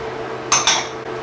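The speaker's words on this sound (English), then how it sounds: "And now we'll cover it and let it simmer for 45 minutes to an hour" A lid goes onto a pot of pork ribs adobo, two quick metallic clinks close by, followed by a faint tap.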